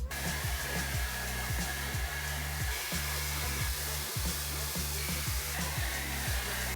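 A hair dryer blows steadily while drying hair, a loud, continuous airy roar with a faint pulsing hum underneath and a brush being used alongside.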